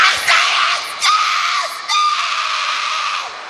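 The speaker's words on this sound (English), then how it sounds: "The crowd are very happy." A wrestling arena crowd at a WWE Royal Rumble event cheers and screams loudly, with several bursts of rising noise over a dense, continuous roar.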